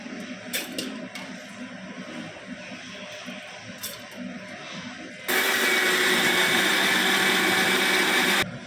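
Wet grinder churning soaked rice and lentils for adai dosa batter, a loud steady whirring roar that starts suddenly partway through after quieter kitchen sounds with a few clinks.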